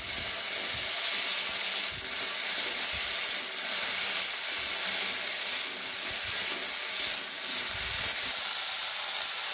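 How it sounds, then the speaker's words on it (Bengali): Radish and taro pieces sizzle in hot oil as they are stirred, a loud continuous hiss and crackle with occasional soft scrapes of the spatula underneath. "এরপর তেলের মধ্যে মূলো আর কচুগুলো দিয়ে দিলাম।"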